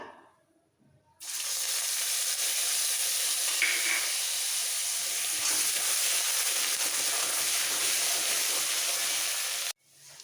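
Onion paste drops into hot oil with tempered whole spices and bursts into a loud, even hissing sizzle that holds for about eight seconds before cutting off, close up with no talk.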